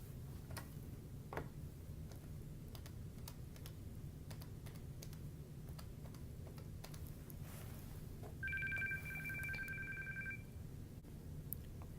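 Number keys on an NEC SV9100 office desk phone are pressed in a quick series of faint clicks, followed by a two-tone electronic ring-back signal lasting about two seconds, with no talk.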